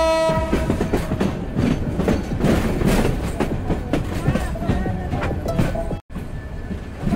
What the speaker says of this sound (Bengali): কমলাপুর রেলওয়ে স্টেশনের ৩ নম্বর প্ল্যাটফর্মে প্রবেশ করল।